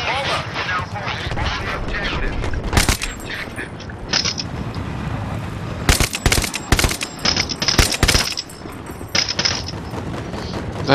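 Gunfire in the video game Battlefield 3 comes in sharp bursts and rapid automatic volleys over a busy background of game noise, with a voice talking at times.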